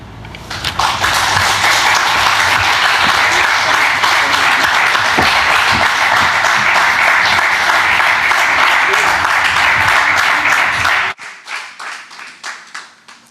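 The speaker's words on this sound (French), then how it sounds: "je m'associe aux applaudissements et aux remerciements, Pascal" An audience at an official charter signing on healthcare access for people with disabilities breaks into loud, sustained applause that ends abruptly, leaving a few scattered claps and quieter room sound.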